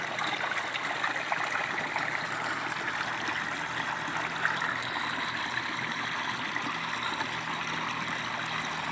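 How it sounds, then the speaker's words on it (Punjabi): A farm tubewell powered by solar panels runs, and its pumped water pours in a steady, even rush that stays constant and fairly close for the whole stretch, with no talking. "ਅੱਜ 7 ਦਸੰਬਰ 2021 ਹੈ ਤੇ ਇਹ ਟਿਊਬਵੈੱਲ ਸਾਡਾ ਚੱਲ ਰਿਹਾ।"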